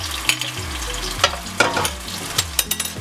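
Base seasoning sizzles in a little hot oil in a pan for lamb gravy, a loud close crackling fry punctuated by several sharp spatters and stirring knocks.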